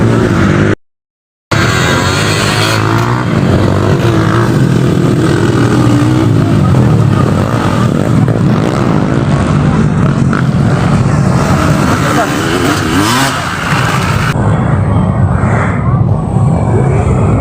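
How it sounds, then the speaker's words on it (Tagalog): Motocross motorcycles roar and rev continuously in a loud, dense engine wash, with a short dropout near the start and people talking over the noise. "naglupad-lupad ng mga motor"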